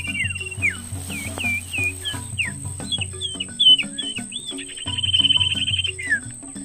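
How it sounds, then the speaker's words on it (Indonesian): A pair of prinias (perenjak) call back and forth outdoors with quick, sharp chirps and short rising and falling whistles, one ending in a rapid trill. A thin, constant insect-like buzz runs underneath. "Nah, kita dapat burung nih. Burung perenjak sepasang."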